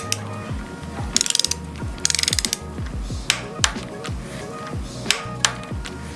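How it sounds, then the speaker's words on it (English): A torque wrench with a 6mm Allen socket tightens clip-on handlebar bolts on a 2022 Kawasaki ZX6R. Two quick bursts of close ratchet clicking are followed by several sharper single clicks, with no talking. "get these two bolts torqued down to 15 foot-pounds of torque"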